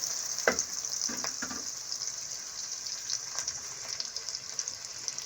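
Chopped onion frying in a pan gives a steady close hiss and sizzle, with a few brief sharper crackles near the start, at moderate level without voices.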